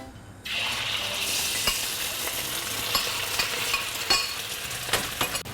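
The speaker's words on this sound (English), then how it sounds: "So now I will start frying the beef first." Steady sizzling of beef stir-frying in hot oil in a pan, with occasional scraping clicks of a utensil stirring, close and continuous.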